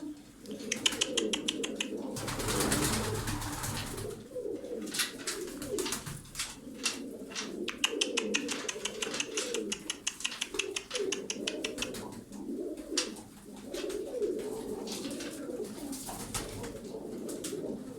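Tumbler pigeons coo in a close, steady chorus of soft throaty calls, with occasional wing flutters and rustling in the loft and no one speaking.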